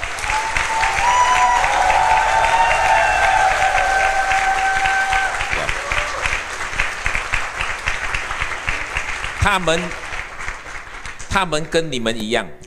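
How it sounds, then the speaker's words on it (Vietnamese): An audience applauds loudly in a large room at a leadership event, with sustained dense clapping that tapers toward the end before speech resumes over it. "Và tất cả các anh chị hãy dành cho họ một tràng pháo tay thật lớn đi ạ."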